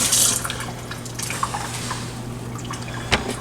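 Vegetables for fajitas rinsed under running water: close, steady splashing and trickling from a tap with a faint hum beneath, ending in a sharp clack near the end.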